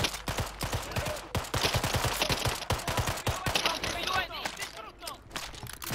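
Rapid gunfire from an SMG in Call of Duty Warzone, dense bursts of sharp shots in quick succession, with a voice talking briefly over the shooting.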